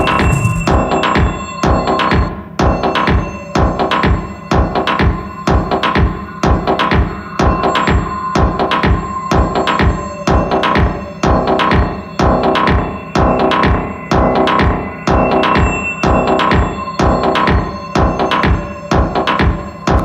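An electronic track built from field-recording percussion pulses at a steady, fast rhythm, its tone opening and closing under an LFO sweep, loud and continuous with no voice.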